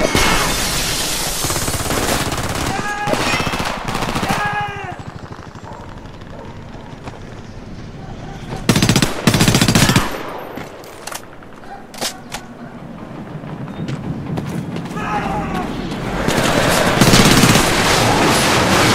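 Enemy gunfire in the video game Homefront: bursts of automatic fire and scattered shots crackle throughout, loud and close, with heavier impacts near the middle and a brief shout under the battle noise.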